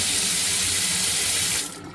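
Water runs steadily from a kitchen faucet as a continuous hiss, fairly loud and close, then drops off sharply near the end as the flow is shut.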